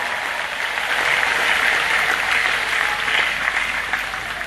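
A Mass congregation breaks into steady, sustained applause in acclamation of God, a dense wash of clapping with no talk over it.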